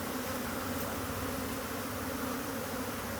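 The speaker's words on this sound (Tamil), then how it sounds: "பல நேர போராட்டத்துக்கு அப்புறம் ஒரு வழியாக தேனீக்கள் கீழே வந்துருச்சு" A swarm of honey bees being brought down during a honey hunt gives off a steady, dense buzzing drone, continuous and even with no voices.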